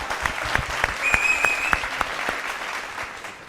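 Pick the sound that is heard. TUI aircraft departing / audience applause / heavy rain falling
audience applause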